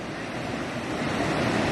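Floodwater rushing over a road between Teesta Bazar and Siliguri, a steady broadband roar of flowing water mixed with wind buffeting, loud and continuous, rising slightly toward the end, no talk.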